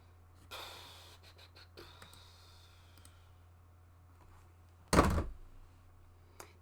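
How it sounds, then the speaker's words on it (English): A hairdryer is slammed down in frustration, one loud thud that comes after soft rustling and breathing, followed by a brief rattle and then quiet. "That was me slamming the hairdryer down in a stress."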